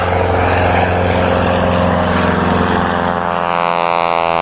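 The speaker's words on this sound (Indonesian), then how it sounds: "Kalau yang ini pesawat akrobatik." An aerobatic propeller airplane roars loudly and steadily overhead, its droning engine tone buzzing with harmonics that shift in pitch near the end as it passes, heard alone without voices.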